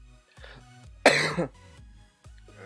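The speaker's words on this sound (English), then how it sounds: "I got this nasty cough still and I just feel like I got something at the back of my throat" A man with a lingering cough gives one sharp, close cough followed by a brief throat clearing, with quiet background sound around it.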